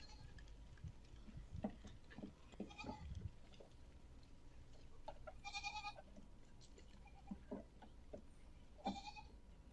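A large herd of goats bleats in scattered, overlapping calls, some near and some farther off, over a faint background of shuffling and movement.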